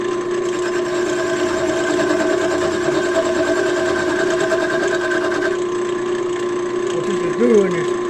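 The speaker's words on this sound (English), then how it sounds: "What this is doing is shearing the wood." A lathe turns a wooden pen blank while a slightly dull turning tool shears the wood, making a loud, steady whirring hum with a hissing cutting layer that eases off about two-thirds of the way through.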